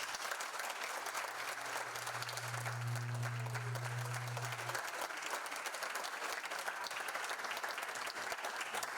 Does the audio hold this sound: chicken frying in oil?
no